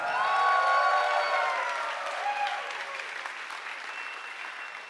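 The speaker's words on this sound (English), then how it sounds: "And give a warm applause to Achim for controlling the Zeitschwein." An audience at a science slam in Berlin bursts into loud, sustained applause that slowly thins out, with a few scattered cheers in the crowd.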